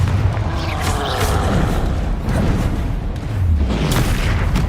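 A Confringo fire spell explodes in Hogwarts Legacy, giving loud, rumbling booms and bursts of blast noise that build in waves over a dense low roar, close and continuous with no clear speech.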